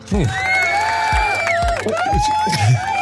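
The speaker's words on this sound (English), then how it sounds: "The crowd is going crazy." A restaurant crowd in Rome cheers and whoops loudly and continuously, excited voices and shouts overlapping at close range, with wavering calls rising above the din.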